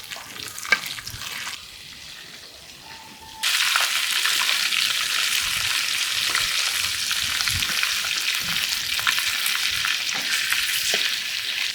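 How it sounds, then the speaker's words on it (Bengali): Katla fish frying in oil in a village-style kitchen: a quieter stretch with a few clinks, then a loud, steady broadband sizzle from about three and a half seconds onward, close and continuous with no talking. "মাছগুলো এক সাইড ভাজা হয়েছে আর এক সাইড ভাজার জন্য মাছটা উল্টাই দেবো"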